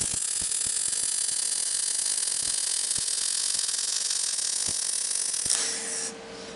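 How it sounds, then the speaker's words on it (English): Steel vise stand being welded, a steady loud hiss and crackle running continuously, with occasional sharp pops, then cutting off near the end. "I'm gonna weld this side"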